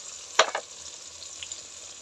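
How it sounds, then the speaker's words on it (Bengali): Spice paste of turmeric and chili powder frying in oil for a fish curry, with a sharp sizzle burst from a stir, then a quieter continuous hiss, close and faint. "ভালো করে মশলাটা তেলে ভেজে নিব"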